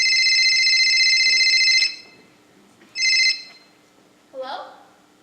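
An old telephone bell rings loudly for about two seconds, then again in a shorter burst after a pause, in a quiet suburban home; a brief voice follows at the end.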